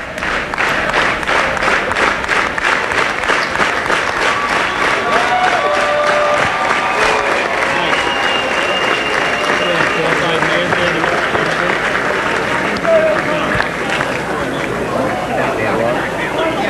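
A packed crowd at a senator's election-night headquarters claps and cheers steadily and loudly throughout, with a voice talking over the continuous roar.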